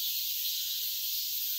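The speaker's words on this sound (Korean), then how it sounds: "매미들이 울고 있습니다." Cicadas drone in a mountain forest on a summer day, a continuous high-pitched buzzing hiss that stays faint and even throughout.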